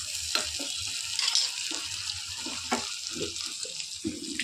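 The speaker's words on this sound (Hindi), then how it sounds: "अब इसको हम छोक लगा देंगे" A chhonk of hot tempering for dal khichdi crackles and sizzles steadily up close, with scattered pops and light stirring clicks over a constant frying hiss.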